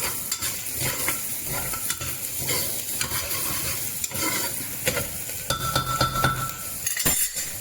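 Onion with cinnamon and cloves fries in a pan with a steady close sizzle, while a utensil stirs and scrapes and occasionally clinks against the metal throughout.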